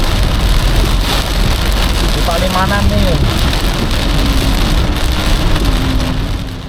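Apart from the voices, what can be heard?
heavy rain and wind on a car during a storm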